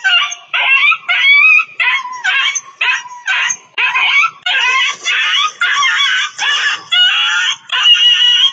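A dog in a played video clip gives a rapid series of high, yelping whimpers and yips, repeated in short bursts with brief gaps, loud and close.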